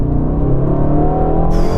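A 2024 Aston Martin V12 Vantage with a 700bhp V12 is floored on kick-down from about 70 km/h, giving a loud, deep, continuous engine roar with no talking.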